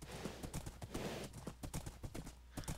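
Horse hooves clip-clopping across desert ground in Minecraft, a quick uneven run of close, crisp hoofbeats that continues without a break.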